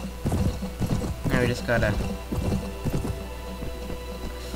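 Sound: fast horse galloping, from video game Mount and Blade Warband

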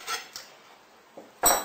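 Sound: metal cutlery being placed on a plate

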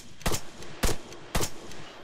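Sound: gunfire in the video game ARMA 3

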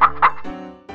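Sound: clucking hens

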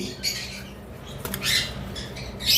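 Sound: yellow-sided and pineapple conures squawking

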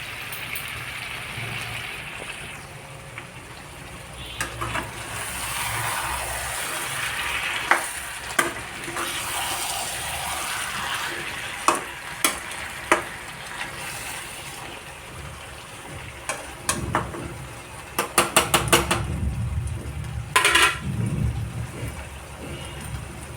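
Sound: stirring fried potatoes into chicken curry in pan

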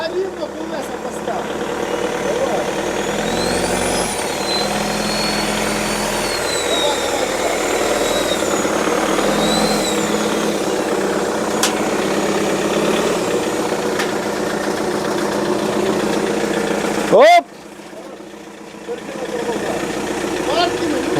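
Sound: Renault car engine running, then switched off

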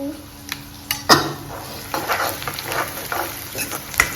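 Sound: frying garlic, chilli and tomato for tempered curd

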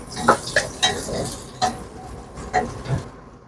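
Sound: onions being stir-fried

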